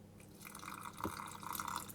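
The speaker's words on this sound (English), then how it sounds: "I'm going to add some of my cold water" Cold water trickles and drips into a pie pastry mixture in a food processor, a soft close splashing pour lasting about two seconds, alone with no talk.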